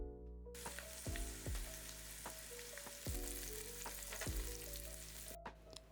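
Onion rings fry steadily in a 4-liter deep skillet for a one-pot Salisbury steak dinner, a continuous sizzle with a few sharper pops and occasional scraping of a utensil.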